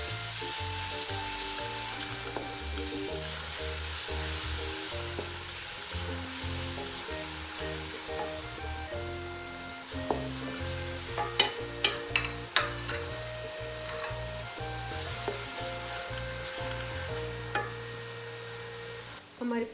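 Onions frying in ghee for korma, a steady close sizzle running throughout with brief clinks and stirring scrapes of a utensil, and a faint melodic music bed underneath, no voices.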